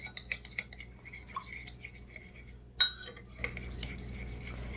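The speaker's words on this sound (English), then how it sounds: "I'm going to put in 1 teaspoon of sugar and then stir that in." Spoon stirring sugar into a small yeast mixture, quick light scraping and clinking against the container, quiet and close, with a sharper knock partway through.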